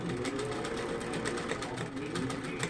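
A sewing machine stitches a seam in fabric for Victorian fans, a fast, even, steady chatter of the needle running close and continuous with no talk.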